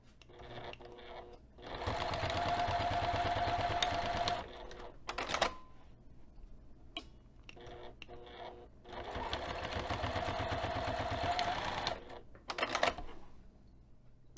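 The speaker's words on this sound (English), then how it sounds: "we're going to take this over to the sewing machine and sew 1/8 inch away and also 1/4 inch away" A sewing machine stitches through layered bag fabric in two long bursts of fast, rhythmic needle chatter, separated by quiet pauses with small clicks and handling sounds.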